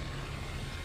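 Aircraft drone steadily overhead in the Call of Duty: Black Ops III Sand Castle mission in Egypt, a continuous low engine rumble with broadband roar and no pauses, fairly loud and close.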